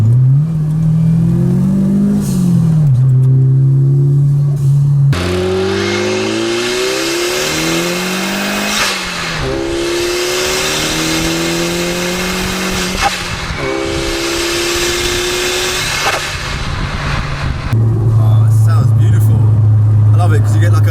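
A turbocharged Fiat Uno Turbo revs and lets off a sharp whooshing dump valve release followed by a fluttering chatter, loud and close, with engine drone throughout.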